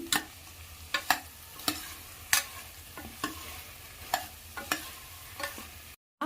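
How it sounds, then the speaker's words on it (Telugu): Brinjals stirred and frying in a pan for a stuffed eggplant curry, with repeated sharp scraping strokes of the spoon over a steady low sizzle, close and moderately loud, ending in a brief silence. "ఇలా ఈ వంకాయలనంతా ఇలా ఒక ఫైవ్ మినిట్స్ ఫ్రై చేసుకోవాలి"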